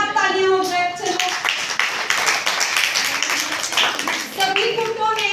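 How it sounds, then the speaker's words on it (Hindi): Schoolchildren in a classroom clap together in a dense, steady burst of many small hands, with young voices audible at the start and end. "सभी के लिए एक बार तालियां हो जाए"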